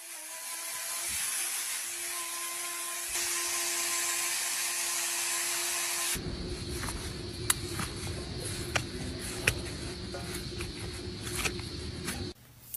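A high-pitched power tool trims a hoof, whining steadily and shifting pitch partway through, then turns to a rougher grinding buzz broken by a few sharp clicks.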